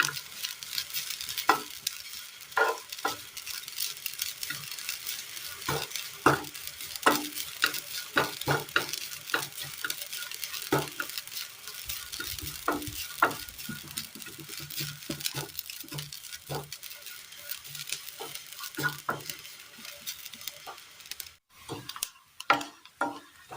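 Grated coconut roasted in a hot pan, stirred and scraped, with steady soft sizzling and frequent sharp clicks of a spoon against metal, close by.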